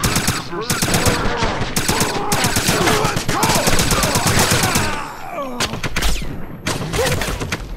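Gunfire rattles at the player in the 2009 Wolfenstein video game, loud, close, rapid bursts that fire almost nonstop, with a short lull before more shots.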